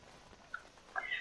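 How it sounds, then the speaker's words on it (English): A cat gives one short, faint meow near the end of a quiet moment in the video game Dragon Age: Awakening. "Who's a good little kitty?"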